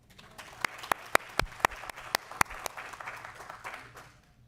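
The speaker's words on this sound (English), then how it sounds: "Can we please give them a round of applause?" Sparse applause from a county elections candidate forum audience honoring a Scout troop, a few distinct claps standing out near at first, then thinning into a soft patter that fades out.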